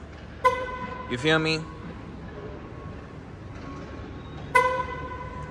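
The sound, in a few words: Dodge Challenger horn chirping twice while locking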